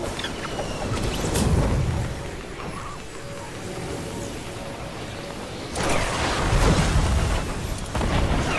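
Rocket launcher blasts in a video game shotgun challenge, two heavy booming bursts with broad rumbling noise, one early and a louder one near the end, under a steady game background.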